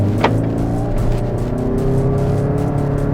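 Toyota Camry hybrid car driving on a test course, with a steady engine and road drone and a brief sharp squeal near the start, loud and continuous throughout.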